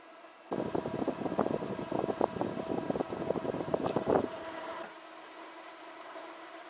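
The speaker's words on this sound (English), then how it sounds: "This, by the way, is a bgears fan. They're about twice as fast as your standard fan." A bgears DC fan, a high-speed unit for a small DIY air heater, starts up and blows loudly for about four seconds with a fluttering, uneven whoosh, then cuts off abruptly, leaving only faint hiss.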